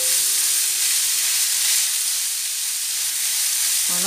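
Minced meat sizzling in a small amount of melted butter in a pan for hachis parmentier, a steady loud broadband frying hiss throughout with a brief clatter at the end.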